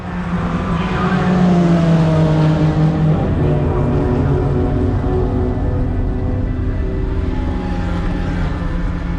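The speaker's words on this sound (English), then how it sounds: "here are the sights and sounds of my Road America TRX ride-along." Dodge Viper TRX engine heard from the ride-along seat while lapping Road America, a steady loud drone with rising and falling pitch sweeps as it accelerates and shifts, continuous throughout.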